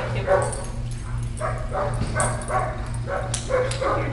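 A dog barks and yips repeatedly at close range, with short whimpers between the barks, over a steady low hum.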